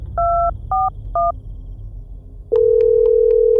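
Three short touch-tone keypad beeps dial a phone number, then a brief pause gives way to a steady, loud electronic line tone that holds alone to the end.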